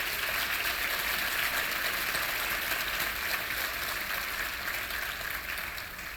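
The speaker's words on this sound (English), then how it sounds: "Can I please have a round of applause for our second group of nominees?" An award ceremony audience gives a sustained round of applause, a steady dense wash of many hands clapping that holds evenly throughout and tapers slightly at the end.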